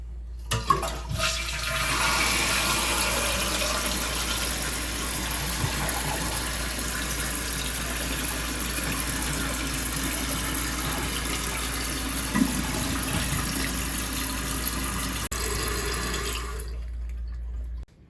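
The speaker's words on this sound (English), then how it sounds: "we're going to do one test flush" A toilet flushes in one long steady gush, its tank then refilling with water after a new flapper was fitted, with no leak; continuous, close and fairly loud, with no speech.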